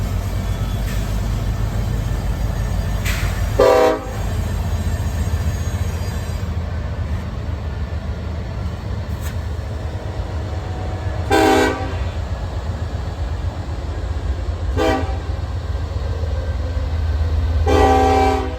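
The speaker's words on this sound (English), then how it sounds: "this Union Pacific train snuck up on me" Union Pacific freight train rolling past with a constant low rumble of wagons, close and loud, as its horn sounds in four separate blasts spaced several seconds apart.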